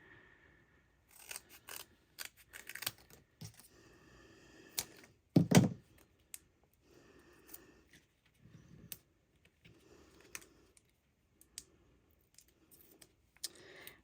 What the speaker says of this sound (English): I think I'm gonna cut a couple strips of foam sheets.